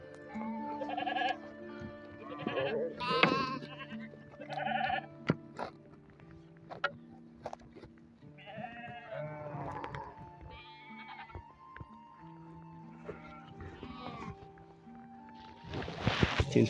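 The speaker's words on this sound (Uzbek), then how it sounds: "Qo'ylar chiqyapti ustiga." Sheep bleat repeatedly as the flock climbs a grassy hillside pasture in Uzbekistan, several animals calling in overlapping, wavering cries, some near and some farther off, with quiet gaps between bursts.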